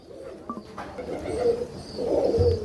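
A purebred pigeon kept by Punjabi pigeon racers coos nearby in low, throaty, rolling calls that swell a couple of times over a faint background, with no one talking.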